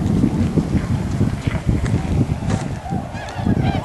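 A large gathering of close to a thousand swans and other waterfowl calling in a dense, continuous chorus of honks over steady broadband noise, loud and close.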